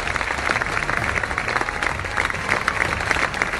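Children's Sagido obstacle course: a crowd claps steadily and warmly for the young students, dense and continuous applause with scattered shouts for a few seconds.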